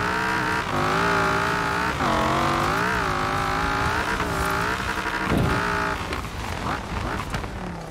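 Car accelerating hard in Forza Horizon 4, a loud engine climbing through gears with sharp revving swells and a brief burst of tire noise, no voices.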